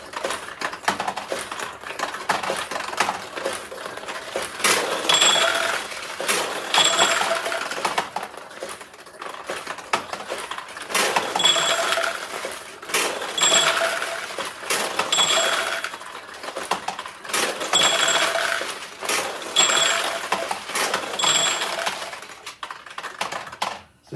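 A restored 1976 Nishijin Model B vintage pachinko machine in play: a continuous busy rattle of steel balls clattering through pins, with repeated bright bell-like chimes in bursts, close and fairly loud throughout.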